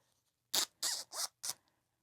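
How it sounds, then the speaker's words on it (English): A zipper on a handmade crochet shoulder-bag purse is pulled open in four quick, close rasping strokes, each a short scratchy burst, heard alone with no talking. "So unzip it,"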